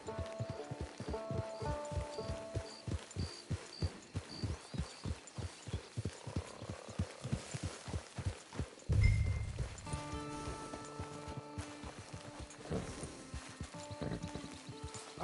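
Horse hooves trot in a steady, evenly spaced rhythm in Red Dead Online, close and clear for several seconds before a heavy thud and quieter movement follow.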